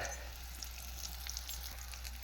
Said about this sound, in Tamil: கருவேப்பிலை வந்துடுச்சு கருவேப்பிலையே சேர்த்துக்க வேண்டிதான்